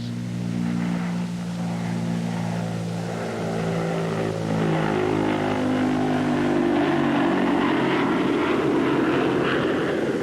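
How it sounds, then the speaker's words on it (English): A Consolidated B-36 bomber, fully loaded with bombs, takes off with its jet engines cut in for extra boost, a loud, steady multi-engine roar with droning propeller tones that rises and grows harsher as it builds through the long takeoff run. "The jet engines are cut in for extra boost, but even so, it takes a long run to get off with a full load of bombs."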